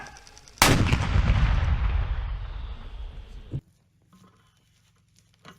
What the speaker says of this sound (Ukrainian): Гармата!